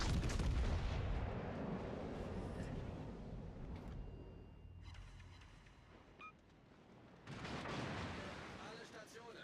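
Naval artillery booms in a warship video game, heavy rumbling salvos rolling one into another, a lull, then another loud barrage, with game voice lines under the gunfire.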